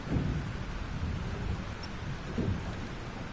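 A thunderstorm in the video game Life Is Strange: steady heavy rain with low rolling thunder rumbles, fairly faint, with no voices.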